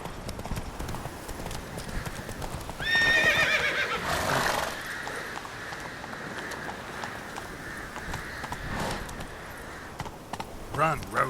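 Geralt's horse Roach in The Witcher 3 gallops with a steady rapid clip-clop of hooves throughout, while a loud whinny rises near the start and short voiced calls break in over the running.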